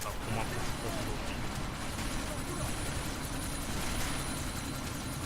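Steady, continuous helicopter rotor and engine drone in the Deus Ex: Mankind Divided video game, holding at an even loud level throughout with a faint voice underneath.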